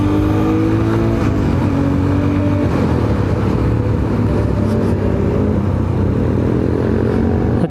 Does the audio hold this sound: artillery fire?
no